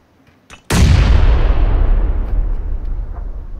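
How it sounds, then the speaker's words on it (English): A grenade blows up in the PUBG video game with one loud, sudden boom that rolls on and slowly fades. A faint click comes just before it, and nobody speaks. "He threw a nade."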